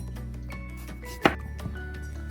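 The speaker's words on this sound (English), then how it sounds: "So I'll just chop off the heads like so for cooking." A knife chops the heads off garden eggs on a board for a Ghanaian stew, a single sharp crisp cut standing out over faint background music and a low hum.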